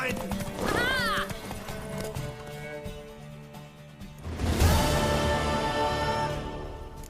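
A horse clip-clops and whinnies loudly nearby, a high neigh early on, then rhythmic hoofbeats with a crash-like burst, and a voice speaks over the action.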